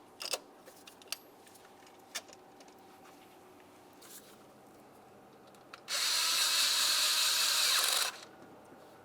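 An ignition coil mounting bolt being tightened on a Dodge Dakota: a single loud power-tool whir lasting about two seconds after scattered light clicks and taps, close by.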